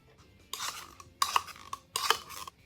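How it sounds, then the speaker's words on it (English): Sweetened condensed milk going into whipped cream in a bowl, three short bursts of scraping and clinking from a spoon or spatula against the can and bowl, close and separated by brief pauses. "To our whipped cream, we're going to add in 1 14-ounce can of sweetened condensed milk."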